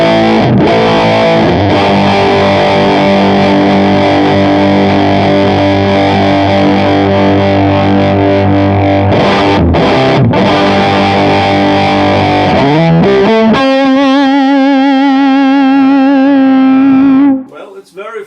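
A guitar runs through a Kemper profiling amp's Metal DS distortion with the drive set to zero, giving loud, fuzzy chords followed by a sustained ringing note that cuts off near the end.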